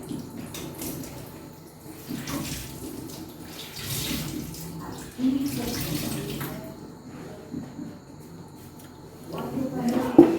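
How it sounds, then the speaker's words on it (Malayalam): Tap water runs steadily while cloth is scrubbed and splashed under it, with a few louder splashes and a voice speaking at times. "ഈ ഒരു ടർക്കി ഞാനൊന്ന് കഴുകിക്കോട്ടെ. ഇച്ചിരി വെള്ളം നനച്ചിട്ട്"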